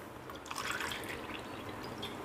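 Water is poured into a pot of mutton biryani, a short, steady splashing trickle heard close up with no voices.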